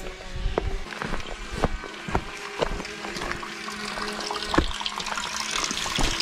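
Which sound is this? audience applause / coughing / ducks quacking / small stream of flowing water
small stream of flowing water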